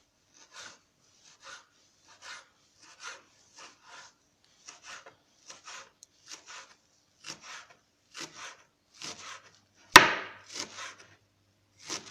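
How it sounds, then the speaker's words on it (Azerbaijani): Fresh coriander, dill and mint are chopped with a knife on a board, giving a steady series of short, dry, close chops with small pauses between them and one sharper clack near the end. "İndi göyərtilərimizi doğrayaq. Bir dəstə keşniş, bir dəstə şüyüd və bir dəstə də nanə."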